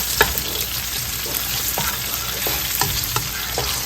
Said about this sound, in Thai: ผัดพริกกับกระเทียมให้หอมก่อนนะคะ